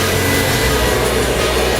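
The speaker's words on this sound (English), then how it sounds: "Turn on our blow dryer." A handheld hair blow dryer runs during a pompadour haircut and styling, giving a loud, steady, unbroken airflow whir that fills the whole moment with no talking.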